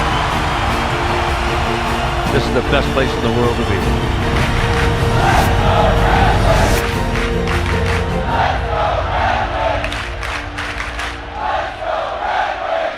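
A packed hockey arena crowd at an NHL prospect tournament game between the Detroit Red Wings and Toronto Maple Leafs roars loudly and continuously, with a voice speaking over the din.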